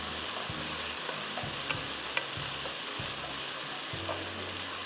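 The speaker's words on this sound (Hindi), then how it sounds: "अच्छी तरह फ्राई कर लीजिए।" Crushed garlic and chicken strips frying in a hot pan, with a steady close sizzle throughout and repeated scraping stirs of a utensil against the pan, no voices.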